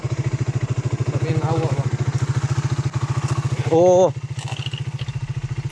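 A motorcycle engine runs with a steady low chugging throb, close and loud, surging briefly near the end as it is revved or cranked, with short exchanges of voices over it.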